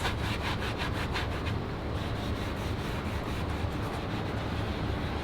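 Rust remover being rubbed onto a rusty surface, a steady close scrubbing and rubbing texture with quick back-and-forth strokes early on, no talk.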